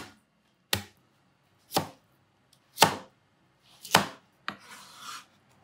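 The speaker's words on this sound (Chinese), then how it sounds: "三条黄瓜我们就给它拍扁" Cucumbers smashed flat on a cutting board for a cold Beijing-style dish, five sharp separate whacks spaced about a second apart, close and loud, followed by a softer scraping rub.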